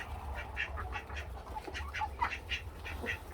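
Ducks quack in their pen in a string of short, repeated calls, moderately faint and a little distant, over a low steady background hum.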